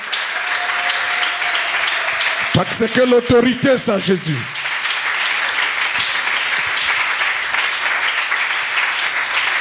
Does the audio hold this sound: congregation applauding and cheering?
yes